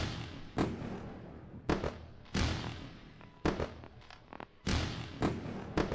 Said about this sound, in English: Let's go with the fireworks.